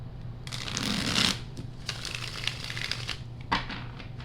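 Tarot cards being shuffled by hand, close and crisp: a long riffling burst, then shorter flicks and taps, with a faint steady hum underneath.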